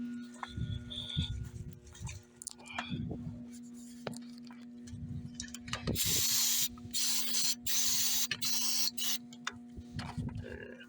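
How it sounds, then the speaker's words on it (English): Short hissing bursts of starter fluid sprayed into the throttle body of an LS-swapped Foxbody Mustang come close and loud in the second half, over a steady engine-bay hum and some mechanical clicking earlier. "A little bit of starter fluid in the throttle body."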